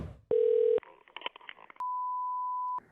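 Phone line tones while calling a coin shop: a short steady low tone, then a brief gap with faint clicks and noise, then a long, steady, higher-pitched ringback-style tone lasting about a second, all alone without talk.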